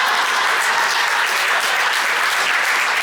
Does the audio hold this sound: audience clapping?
yes